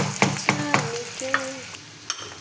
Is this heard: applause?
no